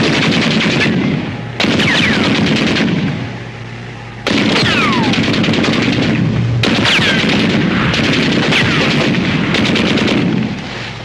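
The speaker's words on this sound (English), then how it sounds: "The enemy's firing on us. I can't hear you. Machine guns!" Bursts of rapid automatic gunfire rattle in several long volleys, loud and close, separated by short pauses, with ringing shell-like clinks in between.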